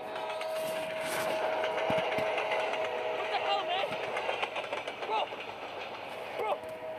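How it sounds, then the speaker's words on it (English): A ghost train ride rumbles along with steady clattering and rattling, while people exclaim and talk over the noise throughout. "That's the same train again."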